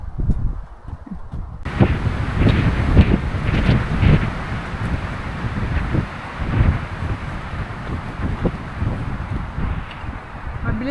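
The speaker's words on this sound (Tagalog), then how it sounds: "masyadong mahangin dito" Strong wind buffets the microphone at an outdoor mountain campsite, a continuous rough roar with gusty surges throughout, and no clear speech over it.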